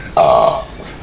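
A single loud, close burp lasting about half a second, standing alone with no talk over it.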